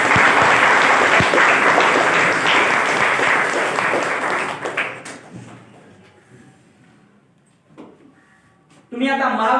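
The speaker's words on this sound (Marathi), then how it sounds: "म्हणून एकदा मोठ्याने तुम्ही तुमच्यासाठी टाळ्या वाजवायच्या." College students at a meet in Pachod clap loudly together for several seconds, then the applause fades to scattered claps and near quiet before a voice begins speaking.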